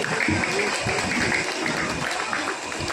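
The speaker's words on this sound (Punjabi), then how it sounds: "ਸੋ ਇੱਕ ਵਾਰੀ ਖੁੱਲ ਕੇ ਤਾੜੀ" A crowd claps steadily at a government primary school event in Aniher village, a dense wash of applause running the whole time, with voices mixed into the noise.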